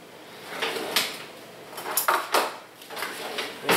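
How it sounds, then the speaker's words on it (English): A spoon is fetched from a kitchen drawer: a short run of sliding and clattering metal cutlery clinks, close and moderately loud, with no voices. "Let me get a spoon and see if I can't taste that"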